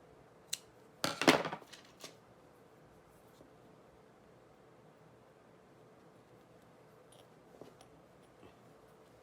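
Scissors snip natural wool yarn in one brief, sharp burst of cutting near the start, followed by quiet handling and faint taps in a calm room.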